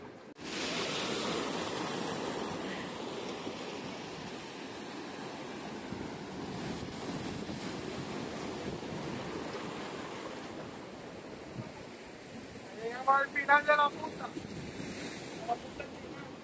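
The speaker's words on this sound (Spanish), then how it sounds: "Mira, ahí viene una olita, viene una ola" Ocean waves break and wash steadily onto a rocky beach at Puerto Mocho near Barranquilla, a loud continuous roar with heavy wind buffeting the microphone, and brief faint voices near the end.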